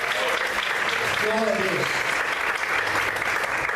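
A church congregation applauding to praise God, dense steady clapping filling the space throughout, with voices calling out over it.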